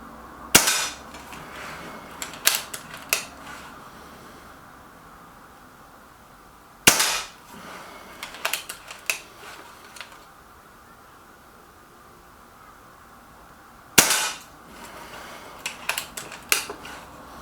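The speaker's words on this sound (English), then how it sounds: "Right, here we go then with the JSB Jumbos, 5 shots." Five sharp, close cracks from a Reximex Myth .22 air rifle shooting JSB Jumbo pellets, each a crisp snap followed by faint clicks and handling noises, spaced several seconds apart in a quiet outdoor setting.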